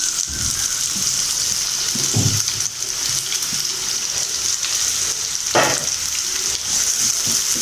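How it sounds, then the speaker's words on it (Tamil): Three chopped onions sizzle steadily in hot oil, a constant crackling hiss up close, with occasional scraping clatters of stirring. "3 வெங்காயம் நறுக்கி வச்சுக்க நம்ம அதை வறுத்துக்கலாம்."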